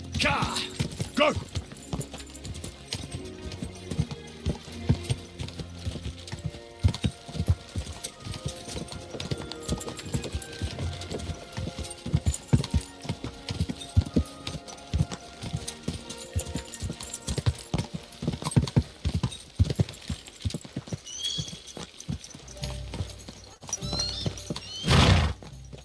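Horse in the game Kingdom Come Deliverance 2 gallops with steady, busy hoofbeats and whinnies, with game ambience, clatter and a voice speaking to it over the action.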